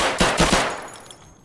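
A quick burst of three loud gunshots fired into a wall in Escape From Tarkov, close and sharp, with echoing decay fading afterward.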